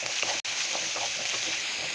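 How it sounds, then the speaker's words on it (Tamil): Onion, ginger and garlic sautéing in a pan for a Tamil brinjal gravy, a steady, close, even sizzle with faint stirring scrapes and a brief dropout partway through, no voices. "3 துண்டு இஞ்சி, 10 பல் பூண்டு நல்லா சேர்த்து வதக்கிக்கலாம்"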